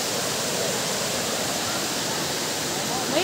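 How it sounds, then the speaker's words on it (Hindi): A waterfall in Meghalaya roars as a steady, loud broadband rush of falling water, constant throughout with no other sounds standing out. "अगर जो पानी की आवाज़ आ रही है तो आपको बिल्कुल दिखाएंगे तो देखो ये रहा झरना"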